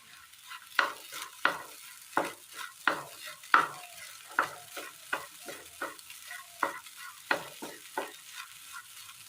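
Vegetables with turmeric and a sprig of curry leaves stir-fried for a Kerala upperi, soft sizzling under a steady rhythm of spatula scrapes against the pan, about two strokes a second, close and clear.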